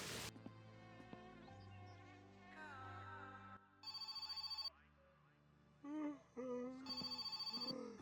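A telephone rings in the video game My Summer Car: two bright electronic ringing bursts about three seconds apart, fairly loud, over a low in-game hum and scattered other game sounds.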